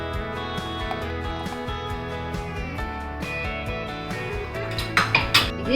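Ground cashew, almond and coconut-water paste being scraped into a vessel, with metallic clinks and scrapes of utensils against pots over a ringing musical background, growing louder clatter near the end.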